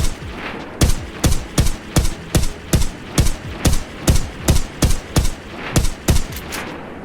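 FN FAL rifle firing in a Roblox game, semi-automatic: a steady string of about sixteen sharp, evenly spaced single shots, loud and close with no talking.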